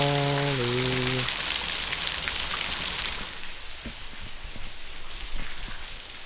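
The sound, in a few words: heavy rain falling outside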